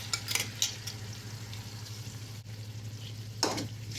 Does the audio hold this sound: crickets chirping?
no